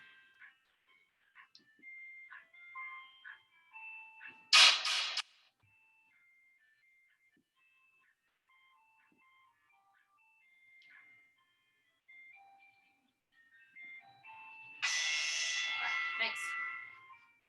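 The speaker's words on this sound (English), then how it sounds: "You hear my ice cream truck?" A faint, tinny ice cream truck jingle plays in the distance, broken by two bursts of hissy noise, with long quiet stretches between.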